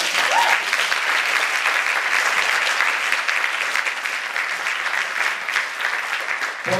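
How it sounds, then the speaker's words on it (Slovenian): A large audience at a charity debate event breaks into dense, steady applause that stays loud and even for the whole stretch, with no voices over it. "Jaz mislim, da si to zasluži en velik aplavz."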